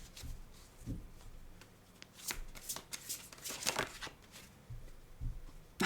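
A deck of unicorn oracle cards shuffled by hand close by, with a quiet, uneven string of soft riffles, card slides and light taps.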